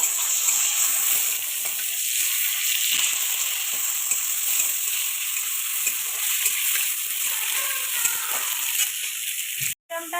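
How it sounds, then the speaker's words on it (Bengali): Tomatoes fry in hot oil with bay leaf, whole cardamom, cinnamon and dried chillies, giving a loud, steady close-up sizzle and crackle that runs unbroken with no voices, then cuts off briefly at the end. "এবার তেলের মধ্যে টমেটো আমি দিয়ে দেবো"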